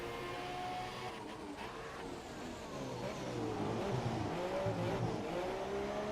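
In the Grand Prix 3 video game, a racing car's engine drones steadily through turn 2 on a wet track, the pitch dipping and rising as the throttle is fed in gently.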